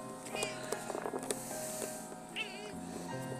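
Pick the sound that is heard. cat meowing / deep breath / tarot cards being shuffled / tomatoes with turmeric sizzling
cat meowing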